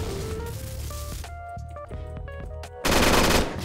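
Rapid bursts of automatic gunfire in the game CrossFire, loud and dense, ending in a sharper blast, with electronic tones in the background.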